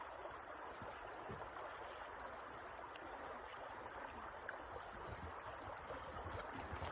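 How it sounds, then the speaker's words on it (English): Steady rushing and trickling of a flowing river, a continuous soft wash of water with no voices, fairly quiet and even throughout. "The river is just trickling and flowing"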